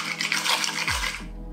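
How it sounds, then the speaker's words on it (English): A bar spoon stirs a Seedlip mocktail with agave nectar and ice in a mixing glass, giving a steady watery swirl and clink, close and continuous, with a low hum rising toward the end. "with a swizzle stick or a bar spoon, we're gonna mix all the ingredients"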